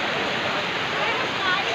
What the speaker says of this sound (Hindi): यहाँ सारे झरना में नहाते रहते हैं लोग